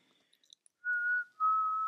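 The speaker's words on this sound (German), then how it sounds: "du pfeifst und pfeifst so vor dich hin." A person whistles a simple melody, two clear sustained whistled notes, close and fairly quiet, with faint scattered sounds before them and no talking.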